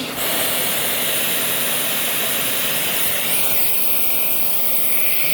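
A Shark NV752 vacuum cleaner runs steadily during a suction test, a loud continuous whooshing motor roar with bright hiss, shifting slightly in tone partway through.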